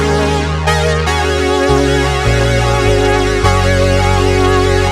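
A loud, lush Korg PolySix synthesizer pad with a thick, shimmering ensemble effect holds a chord as deep bass notes step downward beneath it, with no voices.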